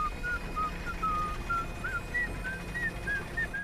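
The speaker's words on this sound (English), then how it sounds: "Donnie whistles as the Turtle Tank store closes, and it's very clearly the old jingle" A cartoon Ninja Turtle whistles the old TMNT theme jingle at a store closing in Rise of the TMNT: a clear, steady whistled melody of short rising and falling notes over faint background noise.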